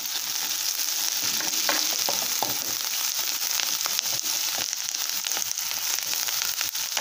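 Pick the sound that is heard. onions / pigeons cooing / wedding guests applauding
onions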